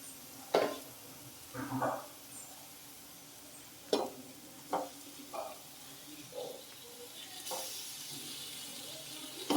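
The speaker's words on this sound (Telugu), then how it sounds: "ఇప్పుడు దీంట్లోకి మనం ఫిష్ని యాడ్ చేద్దాం ముందుగా మ్యారినేట్ చేసి పెట్టుకున్నాం కదా ఫిష్ పీసెస్ని" Marinated fish pieces for a fish curry are laid into a pan and fry with a low, steady sizzle, broken by several sharp clinks and scrapes as pieces go in and are moved, close and moderately loud.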